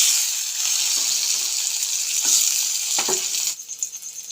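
Mustard seeds and curry leaves sizzle and crackle steadily in hot oil in a pan, a dense continuous frying hiss with a few sharper pops, close and fairly loud, settling slightly near the end.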